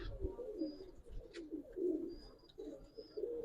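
Pigeons at a farm coo repeatedly in soft, low rolling phrases, several birds overlapping at a steady rhythm, with faint thin chirps and light rustling in the background.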